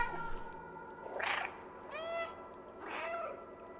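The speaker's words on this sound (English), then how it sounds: "They meow back. I appreciate that they meow back." Three distinct cat meows from the video game Stray come roughly a second apart, clear and close against a faint steady background drone.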